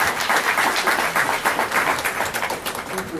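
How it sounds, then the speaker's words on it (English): Audience applause at a 70th birthday celebration, dense steady clapping from a crowd with a rhythmic pulsing quality, fairly loud and sustained throughout. "Can we give them another round of applause"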